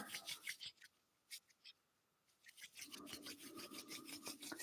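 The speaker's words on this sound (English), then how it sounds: "bring your hands together in front of your heart center and start to rub the palms one more time" Palms rub briskly together at the close of a Kundalini yoga practice, a dry, close rasping in short bursts that pauses briefly, then resumes as a steady, continuous friction.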